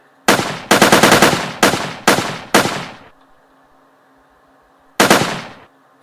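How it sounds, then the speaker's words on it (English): Gunfire from a weapon in a Unity3D first-person shooter game: a rapid burst of loud, close shots, a pause, then another burst followed by a lone final volley after a short silence. "when I shoot"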